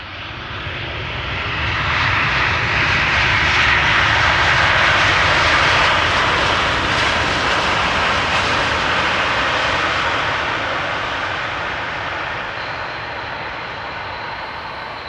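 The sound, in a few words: KLM Boeing 787-10 Dreamliner arriving from New York JFK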